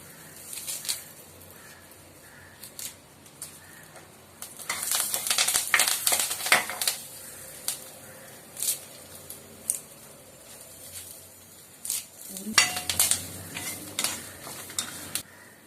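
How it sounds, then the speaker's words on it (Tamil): Dried red chillies fry and get stirred in a pan for idli podi, with a soft sizzle under repeated scraping and clattering bursts of the spoon, close and moderately loud. "லேசாக பொரிஞ்சோடனே இட்லி பொடிக்கு தேவையான காஞ்ச மிளகாயும் இதிலே போட்டுடலாம்"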